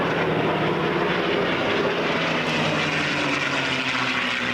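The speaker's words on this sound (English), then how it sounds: "the bombers escorted by the fighters." A B-17 bomber with escorting propeller fighters flying past at the 1992 Boscombe Down airshow, a loud continuous droning roar of piston engines that holds steady throughout.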